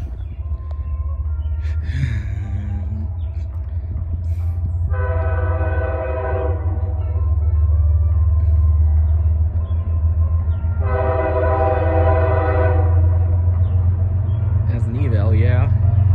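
A CSX freight train led by locomotives 907 and 5307 on Q415, with a K5H horn, rumbles steadily past nearby while the horn sounds two long loud blasts. Talk is heard at moments over the rumble.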